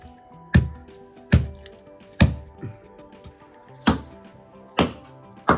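A large headless fish being cut into pieces, with about seven sharp, close chopping thuds and cracks at uneven intervals, each followed by a short wet squish.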